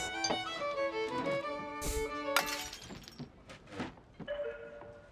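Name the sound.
glass thrown on the floor shattering, from the video game Card Shark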